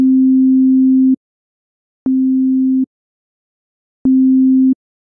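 Two sine waveforms played together in a phase cancellation demo produce a pure, steady low hum in three separate bursts, the first about a second long and the next two shorter, each starting with a small click and separated by silence.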